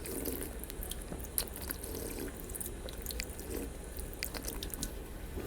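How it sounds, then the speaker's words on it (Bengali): Water trickles steadily from a sensor-activated drinking-water tap at an airport, a close continuous splashing with small drips and clicks against light background noise, no talking. "এই হচ্ছে জল পড়ছে, দেখো এখনই স্টপ হয়ে যাবে।"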